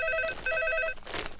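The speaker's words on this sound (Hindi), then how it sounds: "देखना भाई, शायद पांगे का फोन होगा" A telephone rings with two bursts of a warbling electronic ring separated by a short gap, followed by faint background noise.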